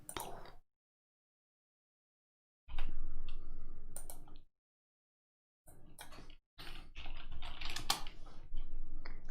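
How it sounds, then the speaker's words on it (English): Search terms typed on a computer keyboard: bursts of rapid, close key clicks separated by silent gaps, with no talking. "just type in like PDF"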